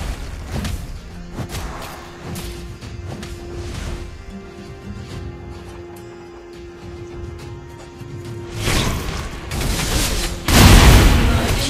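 A turret blows up in Mobile Legends during Alice ranked gameplay. After a stretch of lighter thumps and game effects, loud booming explosions burst out near the end. Brief voice lines are heard.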